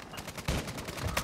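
Rapid automatic gunfire from the console shooter Modern Warfare 2 rattles in steady repeated pulses, moderately loud and continuous with a couple of heavier hits.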